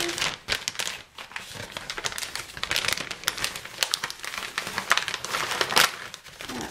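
A plastic freezer bag crinkles and rustles up close as it is handled while trail-baking ingredients go in, a continuous papery crackle with brief louder crunches and no talking.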